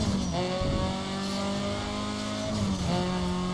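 Car engine in the racing game Need for Speed Most Wanted revving steadily at close range, with sustained harmonic engine tones that shift pitch as the car accelerates and shifts, continuous and loud with no talking.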